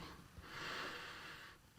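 Someone sniffs up close at the paper pages of a non-leather illustrating Bible, a quiet, drawn-out inhale of breath lasting about a second.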